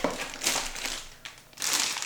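Cardboard packaging crumpled and crinkled by hand while unboxing an AnyTone 778-AT GMRS/2-meter radio, in two bursts of close, rustling crinkle separated by a brief lull.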